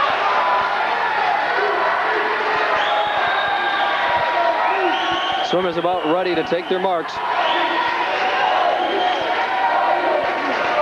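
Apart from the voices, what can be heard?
crowd cheering at swimming championships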